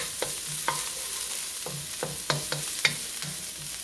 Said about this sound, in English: we're just going to wait a little bit until we get a little brown coloring here on the onions